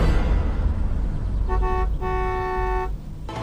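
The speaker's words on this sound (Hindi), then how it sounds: "लेकिन कुछ ही देर बाद एक कार की हॉर्न ने" A car horn honks twice, a short toot followed by a longer sustained blast, loud and close over steady traffic rumble.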